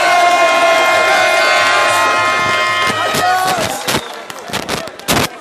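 Huge crowd at a United Democratic Party political rally in the Gambia cheering and shouting loudly, a sustained roar with whistles and sharp bursts toward the end.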